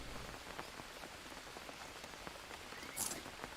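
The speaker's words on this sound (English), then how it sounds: "it's raining right now, so that's filling up the coconut bowls" Rain falls in the Green Hell survival game's jungle, a soft continuous patter of drops on surfaces that stays faint and even throughout.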